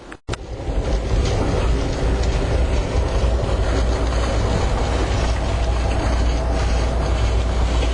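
An Amtrak Sunset Limited passenger train rumbles steadily along with a constant low roar and faint rattling, loud and close, after a brief click at the start, heard from inside as it crosses a high railroad bridge.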